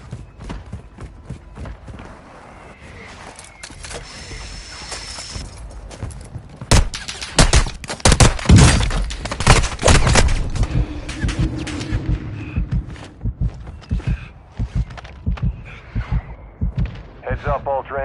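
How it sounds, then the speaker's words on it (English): Mortar strike explosions in a military video game: a cluster of loud, deep booms and crackling blasts from about seven to eleven seconds, then scattered thuds and gunfire bursts under game ambience and brief radio-style voice lines. "Our mortar strike is inbound."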